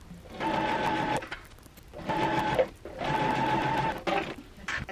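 Sewing machine stitching the side seams of a sage green dress, running in three steady bursts with short pauses between, close and clear.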